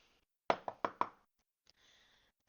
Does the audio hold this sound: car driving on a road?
no